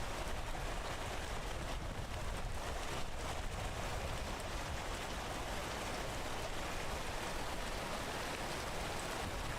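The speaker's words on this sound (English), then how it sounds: "And it's still raining." Steady rain falling in a video game, a constant broadband hiss with faint wind mixed in, quiet and unbroken with no talking.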